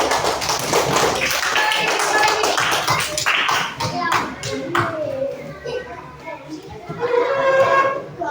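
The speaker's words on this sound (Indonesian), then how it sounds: "tepuk tangan teman kita." Schoolchildren applaud a classmate with a burst of quick, loud hand claps that thin out and then pick up again. Children's voices chatter underneath the clapping.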